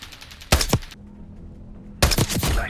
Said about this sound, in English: One of the most satisfying sounds in this game is the critical hit sound